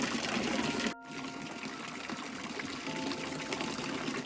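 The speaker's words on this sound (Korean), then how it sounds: "석굴암 아래쪽에 있는 감로수 물소리가 아주 시원합니다." Spring water flows below Seokguram grotto in Gyeongju, a continuous bright splashing and pouring that runs steadily throughout, with one brief dropout.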